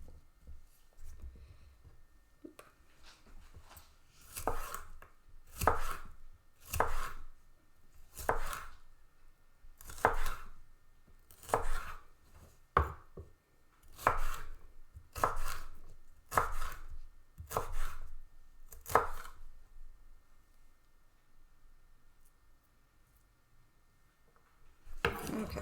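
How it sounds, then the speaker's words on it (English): A knife dices peppers on a cutting board in a steady run of crisp, close chops, about a dozen even strokes, then pauses before a final chop. "So I've been dicing, my pieces have been getting smaller."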